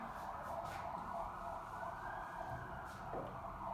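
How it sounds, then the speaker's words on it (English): An ambulance siren sounds outside, a steady, sustained wail heard through a room over constant background noise, with no speech over it. "there's an ambulance outside."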